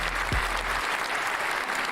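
A short burst of crowd applause plays during a casual podcast conversation. The dense clapping is steady and fairly loud for about two seconds, opening with a brief low thump.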